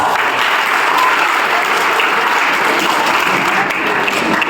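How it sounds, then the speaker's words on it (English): A school debate audience gives loud, sustained applause for the judges, an even roar of many hands clapping together without pause for the full length. "Ronnie sir and Jennifer ma'am, give them a round of applause"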